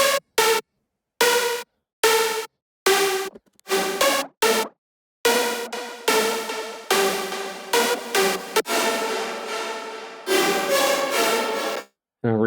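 Dry angry-dubstep synth bass with its effects switched off, playing in short choppy bursts with gaps at first, then longer sustained harsh buzzing notes, loud and close with no talk over it.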